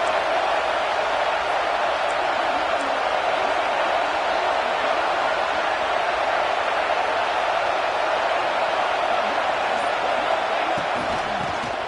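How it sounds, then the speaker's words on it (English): Dense, steady roar of a big stadium crowd in Happy Valley on third down in a Madden football video game, holding at a constant loud level throughout with no clear breaks. "Here comes the noise from this big crowd in Happy Valley on 3rd down."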